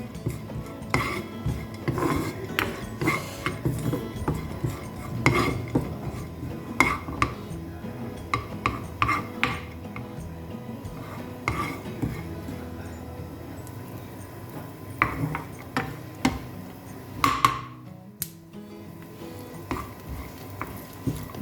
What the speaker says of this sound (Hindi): बस ये जो आप इसकी चटर चटर की आवाज़ सुन रहे हैं, यहाँ पे हमें फ्लेम कर देना है बंद